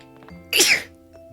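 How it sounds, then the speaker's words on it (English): A single close, sharp sneeze bursts out midway through, standing out briefly against a quiet, steady background hum. "I sneeze."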